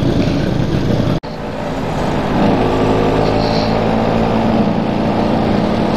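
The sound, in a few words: riding a Vespa scooter in traffic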